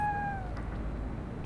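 A cat in the video game Fallout Shelter gives one clear meow that falls in pitch and trails off, followed by a low, steady background hum.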